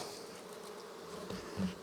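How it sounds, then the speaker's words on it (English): Bees from a captured swarm buzz steadily inside a wooden hive box, a dense close drone that swells slightly near the end. "Got a pretty good bit of bees in here."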